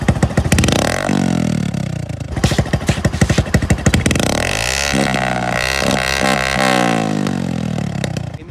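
A Bajaj Platina motorcycle fitted with a modified silencer starts and idles loudly up close, giving a rough, throaty, pulsing exhaust burble with uneven revs throughout.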